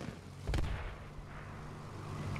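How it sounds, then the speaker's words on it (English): A single gunshot rings out in the tactical shooter Squad, a sharp burst sitting over a low rumbling background hum, followed by steady ambient noise. "Where's that last shot?"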